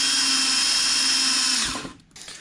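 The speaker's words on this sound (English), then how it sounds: "time to drill" A power drill whines at high speed as it bores through the bumper of a sixth-generation Chevrolet Camaro, steady and close, then winds down and stops abruptly.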